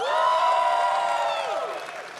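An audience at a Bandai card game tournament in Dallas cheers and applauds the top players, with sustained whooping voices standing out over a softer wash of clapping, loud and steady throughout before easing slightly at the end.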